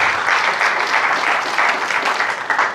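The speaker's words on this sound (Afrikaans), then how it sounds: "Kan ons 'n hande klap vir die Here gee?" A church congregation claps together, dense and steady applause from many hands filling the room throughout.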